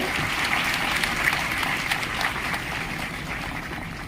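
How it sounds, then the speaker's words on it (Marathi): Steady, dense applause from a large crowd at a ceremony honouring women, sustained at an even volume throughout without any talking. "जोरदार टाळ्या वाजवायचे आहे"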